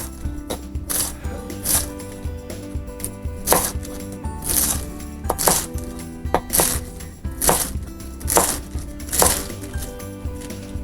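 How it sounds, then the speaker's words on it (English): A knife cuts through a washed head of Napa cabbage on a board for dumpling filling, giving about a dozen crisp, evenly spaced chops, close and alone, with no talking. "How I like to cut my Napa, so I go towards the end, I slice it through, this."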